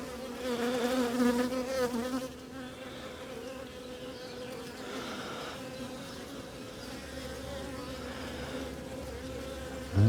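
Honeybees buzz steadily at an open beehive during inspection, a dense close drone that is loudest at the start, then settles into a constant hum with no talking.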